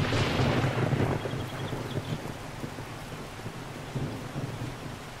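Steady rain with deep rolling thunder in the video game 7 Days to Die, a loud rumble at the start fading into continuous rainfall and a later softer rumble, no talk.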